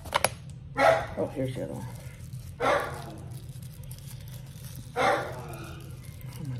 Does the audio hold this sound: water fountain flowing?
no